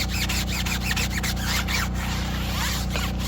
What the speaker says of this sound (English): you can also use a drill attachment onto a drill, and that'll also speed up your work time